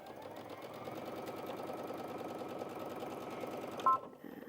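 A Brother Innov-is VQ2 sewing machine stitches fabric in a steady, rapid mechanical rhythm, running evenly for several seconds before stopping abruptly.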